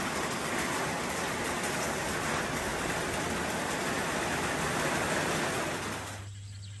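Steady, dense rain pours down in a continuous hiss, loud and close, then abruptly drops off near the end.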